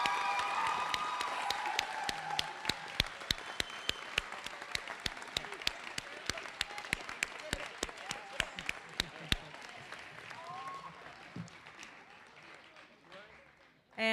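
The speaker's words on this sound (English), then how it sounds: "Please give a round of applause for West Campus graduates." An audience at a nursing pinning ceremony applauds graduates in a large hall, a sustained round of crowd clapping with sharp individual claps that thins out and fades to quiet after about ten seconds.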